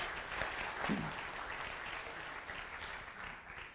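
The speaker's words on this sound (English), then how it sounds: "Give her a round of applause, everybody." A crowd applauds steadily, a dense wash of clapping that holds at a moderate level for several seconds without speech.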